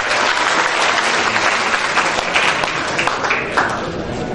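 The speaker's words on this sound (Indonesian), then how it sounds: "tepuk tangan untuk pembicara kita." Audience at a 2014 Islam–Christian public debate applauds the speakers, a dense, steady wash of clapping from many hands that holds strong throughout with no talk over it.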